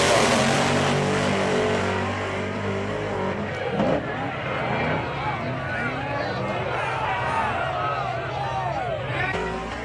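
A no-prep drag racing car makes its very first pass, its engine roaring and revving hard down the strip with a loud, rasping drone while a commentator talks over it.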